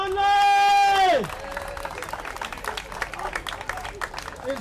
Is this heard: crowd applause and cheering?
yes